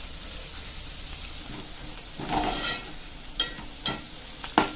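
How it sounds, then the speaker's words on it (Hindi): Onions frying in a pan for egg hakka pasta, with green chillies in the mix: a steady close sizzle with sharper crackles and spatula scrapes toward the end, no talk. "देखिए, प्याज हमारा फ्राई हो रहा है"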